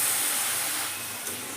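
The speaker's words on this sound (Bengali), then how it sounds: "এবার আমি এর মধ্যে দিয়ে দিচ্ছি দুধ।" Milk poured into carrots fried in ghee in a hot pan, a loud, steady sizzling hiss that fades slightly near the end.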